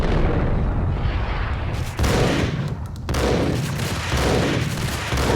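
Rapid gunfire in the third-person shooter Max Payne, aboard a ship, dense loud volleys of overlapping shots with two short gaps between bursts.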